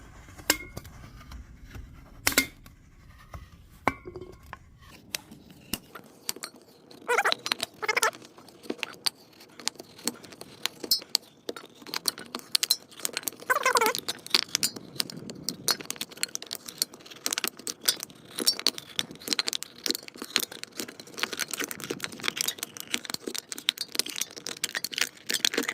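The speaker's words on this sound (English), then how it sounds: "you're going to keep your cutting tool level, and you're just going to score it" A cutting tool held level scores thin metal for a homemade survival card alcohol stove, giving repeated close, sharp metallic scraping and rattling strokes in irregular bursts after a quieter opening.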